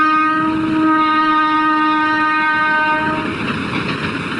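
A train passes loudly along a railway line right beside the tomb of Nur Jahan, a sustained horn blaring over the steady rumble of the cars, with the rolling noise swelling toward the end.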